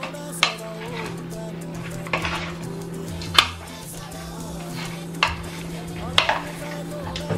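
Curry goat stirred in a pot, with regular sharp clanks and scrapes of a spoon against the metal every second or so over a low steady hum, close and moderately loud.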